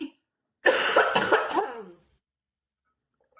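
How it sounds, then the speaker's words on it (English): A short fit of several rough coughs in quick succession, close and loud, followed by silence. "Everybody's coughing and stuff."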